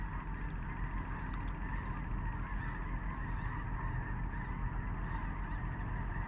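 A massive flock of tens of thousands of geese honks in a dense, continuous chorus, faint and distant, moving north to south over a duck-hunting spot.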